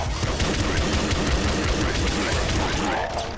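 Rapid, dense gunfire from the indie shooter game Nuclear Throne, a continuous loud fusillade of overlapping shots during a boss fight that ends abruptly near the close.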